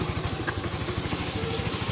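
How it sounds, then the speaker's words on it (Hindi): A motorbike engine idles steadily on its own with no throttle applied, a close, continuous low chugging pulse that holds an even rhythm throughout with no revving. "तो दोस्तों तुम लोग देख सकते हो ये मेरी बाइक बगैर रेस के चलती है।"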